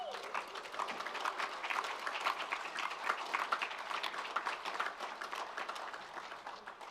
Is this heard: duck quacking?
no